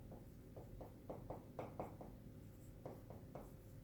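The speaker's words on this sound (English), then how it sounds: "So let me write that up here." Marker or chalk strokes writing out a math equation on a board during a calculus lesson on differential equations, a series of short scratchy squeaks in uneven bursts, close and clear with no talking.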